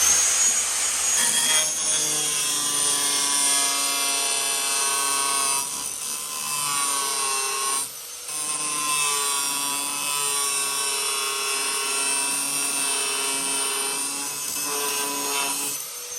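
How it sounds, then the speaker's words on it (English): A tool cuts a small slot into car body metal, giving off a steady, high, harsh whine that holds for the whole stretch, briefly dipping once midway, with no one talking. "I'll just cut a little slot."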